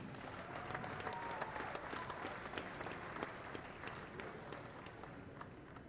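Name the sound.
audience applause for school alumni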